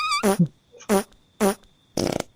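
Cartoonish fart sounds in a horror video game, four short loud bursts in quick succession, the last one longer and sputtering, with no talking.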